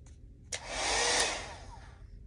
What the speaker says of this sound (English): Let me get the blow dryer. This is the blow dryer I'm using.